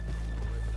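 A horse in the video game Red Dead Redemption 2 whinnies briefly under a steady low hum, with faint hoof clops mixed in, close and moderately loud.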